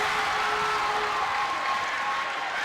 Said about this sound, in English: As you hear the fans cheering on